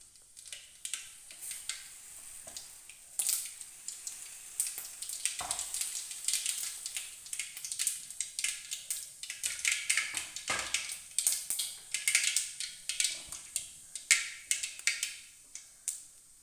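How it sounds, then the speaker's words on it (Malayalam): Mustard seeds crackle and pop in hot oil in a pan while carrot thoran is cooked, a dense run of sharp, irregular snaps over a steady sizzle that keeps going throughout. "നമുക്ക് എണ്ണ ചൂടായി കടുകിട്ട് കൊടുക്കാം."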